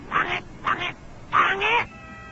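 A duck quacks three times, loud and close, the last call a longer doubled quack, with short pauses between.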